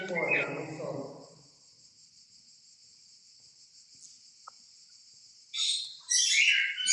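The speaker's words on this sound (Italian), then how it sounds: "hai gli uccellini lì" Small birds chirping in bright, rapid bursts near the end, following a brief spoken voice at the start and a steady high insect-like whine underneath.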